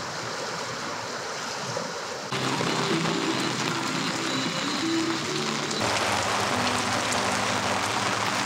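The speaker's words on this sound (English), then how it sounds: "It was raining all morning." Rain falls steadily outdoors during a fly fishing trip in southern British Columbia, a dense hissing patter that grows louder partway through and stays constant, with no voices.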